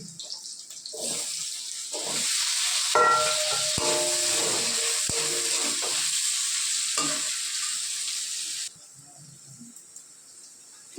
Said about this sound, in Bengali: টুকরো টুকরো করে রেখেছি যে আলুগুলো ওগুলো দিয়ে দিচ্ছি